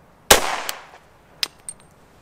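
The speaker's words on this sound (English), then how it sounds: "first shots, 357 conversion barrel, chambered, decocked" A SIG Pro SP2340 pistol fitted with a .357 conversion barrel fires one sharp, loud shot with a decaying echo. Two fainter clicks and metallic clacks from the handgun's action follow close by.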